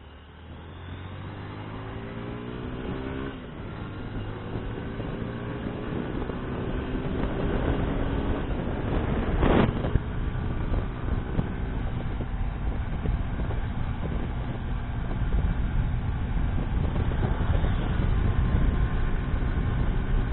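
A Honda CBF 150 motorcycle cruises along an open road, its engine droning steadily beneath constant wind buffeting, with gear shifts changing the pitch and a brief sharp knock partway through.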